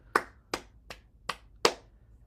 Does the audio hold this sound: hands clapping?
yes